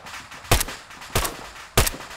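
Three sharp, evenly spaced gunshots from ARMA III military simulation combat, loud and close, each with a brief tail, over a low ambient background.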